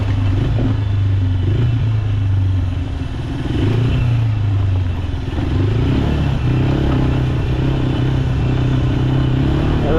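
A motorcycle rides over rough, rugged terrain. Its engine drones loud and steady from close by, shifting pitch a few times, with clattering and rumbling over the bumps throughout.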